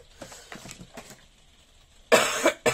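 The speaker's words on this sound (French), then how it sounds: "Excusez-moi, je tousse." A woman coughs at home, a few faint rustles first, then a loud close cough burst with a second short cough, alone without speech.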